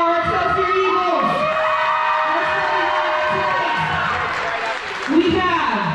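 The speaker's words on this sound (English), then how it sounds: "Let's all cheer on our Excelsior Eagles." A crowd at a high school volleyball match between Excelsior and Big Bear cheers and whoops in a gym, a loud, sustained roar with yells and shouts that swells briefly near the end, with an amplified announcer's voice mixed in.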